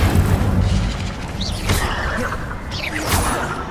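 An Incendio fire spell cast in the video game Hogwarts Legacy, a loud, steady roar of flame with whooshing sweeps, a deep booming undertone and two brighter bursts partway through.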